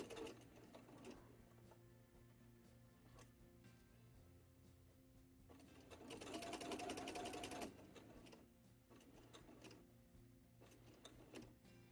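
A sewing machine stitches bias tape with a soft, steady mechanical hum and needle patter, rising into a louder, faster run of stitching midway, then easing back to quiet handling.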